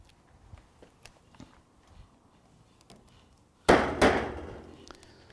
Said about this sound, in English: just a wee tap there to make sure the drill bit doesn't skew off